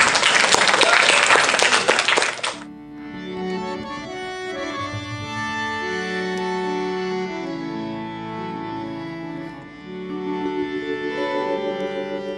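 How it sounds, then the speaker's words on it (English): An audience at a Bhuvaneshwar temple camp claps loudly in a brief, dense round of applause that cuts off after about two and a half seconds, giving way to devotional music. "give yourself a round of applause"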